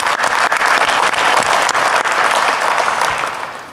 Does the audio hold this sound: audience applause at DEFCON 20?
yes